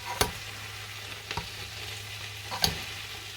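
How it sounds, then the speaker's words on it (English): Greens being stirred gently through olive oil in a pan, with three separate scraping strokes over a steady low frying hiss and a faint hum, no talk. "You want to try to just stir it nice and easy. Get some of the olive oil up through all the greens."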